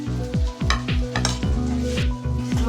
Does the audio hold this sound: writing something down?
no